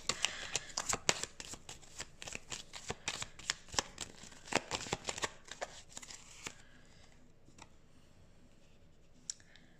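Tarot cards riffle and snap in rapid, crisp bursts for about six seconds during a card reading, close and fairly loud, then the shuffling stops and only faint room tone with an occasional soft tap remains.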